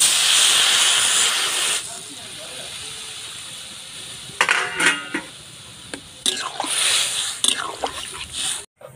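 Water poured into a hot pan of taro and fish makes a loud, close hiss that fades after about two seconds, followed by clattering and scraping noises; a voice speaks briefly.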